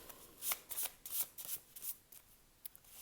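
Animal oracle cards are shuffled and drawn by hand, giving a quick series of soft, crisp riffling bursts, close and fairly quiet, with short pauses between them.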